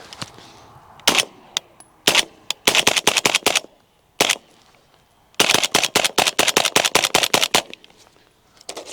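Suppressed PSA Jakl rifle in .300 BLK firing subsonic rounds: loud, sharp shots close by, some single and many in rapid strings, with short quiet gaps between the bursts.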